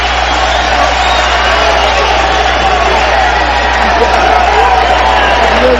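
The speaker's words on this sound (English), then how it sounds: "Crowd and Van Andel up and cheering." Loud arena crowd at a Mayweather versus Ndou boxing match roaring and cheering after a round, a dense, continuous wash of yells and whoops filling the whole stretch.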